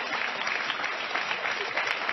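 Studio audience at a daytime talk show applauding, a dense steady wash of clapping from many hands that holds evenly throughout.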